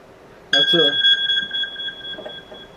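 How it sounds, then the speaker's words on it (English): A digital kitchen-style timer alarm bursts on abruptly and keeps beeping with steady high-pitched tones, loud and close, while a person talks underneath. "It's my timer."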